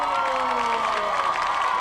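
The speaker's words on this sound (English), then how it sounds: "Please stand up and everybody please give them a big round of applause." A high-school football crowd cheers and claps for alumni standing at a night homecoming game, a brief mix of shouts, whoops and applause with a sustained tonal hum running beneath.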